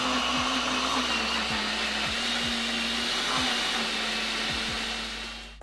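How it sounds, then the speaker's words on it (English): A blender runs steadily throughout, mixing a protein shake made with almond or cashew milk, its motor whirring loud and constant with a low hum, easing off slightly at the very end. "I put that in the top, so when I blend it,"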